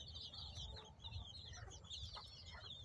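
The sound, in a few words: native gavran desi chicken chicks clucking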